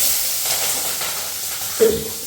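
Potatoes frying in a pan over a low flame give a steady soft hiss, with a brief louder scrape or stir near the end.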